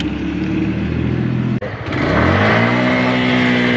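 A Keeway R152 motorcycle engine idles with a steady mechanical drone, briefly stumbles, then climbs into a louder, rising rev that holds high and close.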